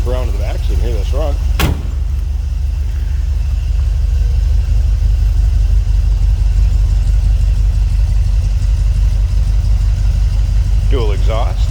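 A 1970 Cadillac Eldorado V8 with dual exhaust idles steadily with a low, continuous rumble, with brief voices at the start and end and a sharp knock early on.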